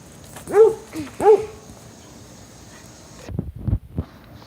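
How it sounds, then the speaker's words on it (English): A dog gives two short, close barks or yips in quick succession over a faint steady background hum, then a few dull knocks follow. "A dog."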